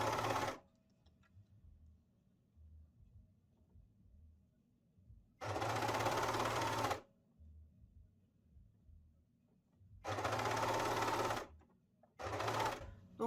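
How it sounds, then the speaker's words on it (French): Overlocker serger sewing a garment collar with a label caught in the seam, running in three bursts of fast close whirring separated by quiet pauses with faint handling noise. "C'est parti pour la couture à la surjeteuse."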